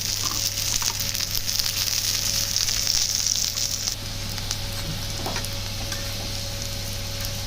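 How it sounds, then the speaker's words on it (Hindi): A corn roti cooking on a hot griddle with desi ghee sizzles in a steady hiss, with a low continuous hum underneath and occasional faint ticks and scrapes. "देसी घी से और चौपड़ लेंगे ऐसे"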